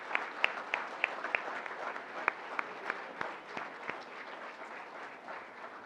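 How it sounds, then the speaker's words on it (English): Audience applause at an evening school board meeting honouring employees of the year, a steady wash of clapping with some sharp individual claps standing out near the front, moderately quiet and continuous throughout. "please join me in a round of applause for our 1819 Employees of the"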